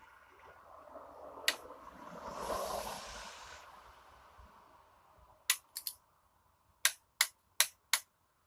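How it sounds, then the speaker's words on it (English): A torque wrench tightens a bolt on a Ford F-150 4.2-liter engine under repair after hydrolock. Some low rustling and handling noise is followed by a series of sharp, close clicks in quick pairs and singles as the wrench reaches 29 foot-pounds. "you hear that click? That clicked at the 29 foot-pounds."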